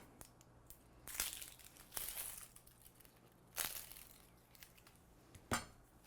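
An onion is topped, split and peeled by hand, making a few quiet papery crinkles and crisp tearing bursts spaced apart against near silence.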